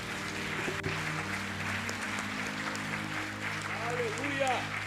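A church congregation applauds in a sustained, dense wash of clapping that holds steady for several seconds, with a faint voice and low tonal background underneath.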